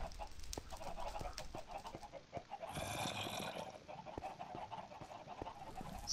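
Chickens in the video game Minecraft give a series of short clucks over soft game ambience, with a brief burst of noise partway through and no voices.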